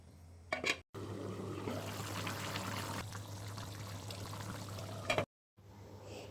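Broth is poured into a pot of bottle gourd and desi chicken curry. A close, steady liquid pour lasts several seconds between brief clatters, with a low hum underneath.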